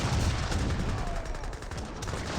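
Dense gunfire from Gatling guns and infantry crackles continuously through an Age of Empires 3 battle, a busy rattle of overlapping shots at moderate level.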